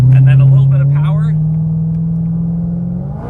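A Chevrolet Corvette C6 with an LS3 engine accelerates hard, a loud, deep engine roar with a rising tone that holds steady, heard from inside with brief talk over the start.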